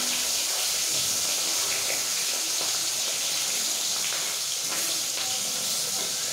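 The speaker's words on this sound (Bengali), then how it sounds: "আগে বড় মাছগুলো ভেজে নিচ্ছি" Large fish frying in a home kitchen pan, a steady close hiss and sizzle with soft crackles running unbroken throughout.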